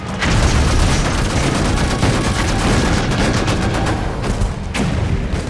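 Loud, dense gunfire and explosive booms from a World War II naval battle in the Atlantic fill the scene continuously, with a few sharper bursts standing out near the end.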